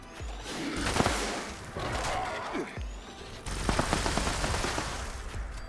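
Rapid, heavy gunfire from a powerful weapon in the video game Fallout 76, dense bursts and booming impacts in a continuous loud barrage with a brief lull midway.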